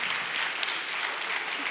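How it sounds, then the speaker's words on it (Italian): Applause of encouragement from an audience at a regional day of remembrance and commitment, a steady dense clapping that holds evenly for the whole short stretch with no voices over it. "Facciamogli un bel applauso anche,"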